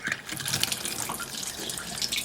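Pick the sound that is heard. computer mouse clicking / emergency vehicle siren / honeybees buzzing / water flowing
water flowing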